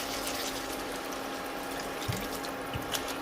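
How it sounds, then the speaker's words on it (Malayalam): Water pours steadily into a pot of chicken rasam boiling on high flame, a continuous close splashing rush over a low background hum. "ഇനി ഇതിലേക്ക് വെള്ളം ഒഴിച്ചു കൊടുക്കാം"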